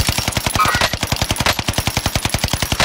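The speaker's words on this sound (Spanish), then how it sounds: "¡Están disparando!" Rapid automatic gunfire in a video game rattles out in a fast, even burst of loud shots, close and continuous with no voices over it.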